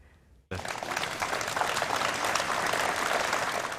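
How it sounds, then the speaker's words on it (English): Spontaneous applause from hundreds of mourners outside York Minster, breaking out suddenly after a quiet moment and then holding as dense, sustained clapping from a large outdoor crowd. "As Harry arrived, there was spontaneous applause from the hundreds of people"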